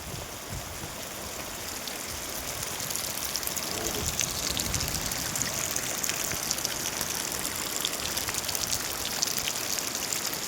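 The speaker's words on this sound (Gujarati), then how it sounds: "બહુ વરસાદ પડ્યો ભાઈ આજ તો" A heavy downpour hisses and patters continuously at an even, loud level, with dripping and running water mixed into the wash and no pause.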